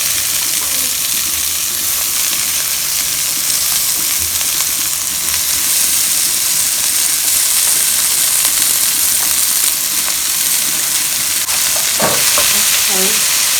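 Callaloo being stirred as it fries in a pot, with a constant loud sizzle and steam hiss throughout and a few scraping stirs near the end.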